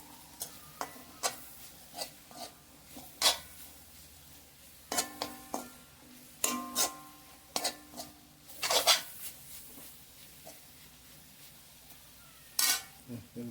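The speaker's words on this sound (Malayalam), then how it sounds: "ഈ മസാല നന്നായിട്ട് വഴറ്റും" Masala for beef roast being sautéed in a pan, with a soft sizzle under sharp, irregular clinks and scrapes of a spoon against the metal pan, some louder knocks near the end, and no talking.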